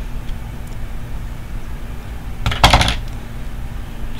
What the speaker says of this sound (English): I'm just going to snip a little hole.